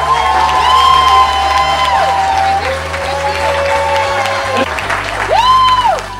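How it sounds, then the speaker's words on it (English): A holiday gathering crowd gives loud sustained applause for an honoree, dense clapping mixed with cheers and whoops, with raised voices and shouts riding over the clapping throughout. "I wanna hear people give a real big round of applause for Alexis."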